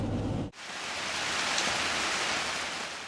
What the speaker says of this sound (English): it rained so hard that we couldn't cook over the campfire